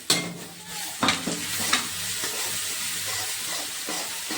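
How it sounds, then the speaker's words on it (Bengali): Ginger with turmeric fries in a pan while being stirred, a close, continuous sizzle with a few sharp scrapes of the utensil near the start, no talk. "আদাটা ভেজে নেবো সুন্দর করে।"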